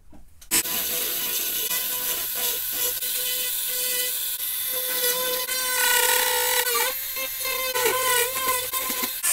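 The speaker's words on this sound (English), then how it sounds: "let's just see how it feels in the hand, cutting away in here and really refining this and getting more detail out of it" A Dremel rotary tool on a flex shaft handpiece carving and refining detail in wood, a steady close high-pitched whine with grinding rasp that shifts in pitch as pressure changes, running continuously without talk.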